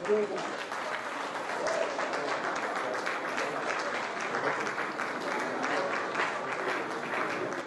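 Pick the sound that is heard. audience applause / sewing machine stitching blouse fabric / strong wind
audience applause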